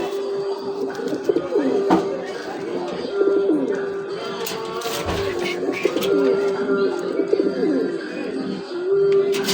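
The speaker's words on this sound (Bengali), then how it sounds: "এই হলো ভাইজান শার্টিন কবুতর" Shirtin fancy pigeons in a cramped cage coo in steady, overlapping low murmurs over several seconds, close by, with a little background noise.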